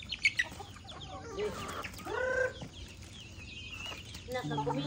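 Chickens cluck and squawk in bursts close by, with a few sharper calls and some background murmur.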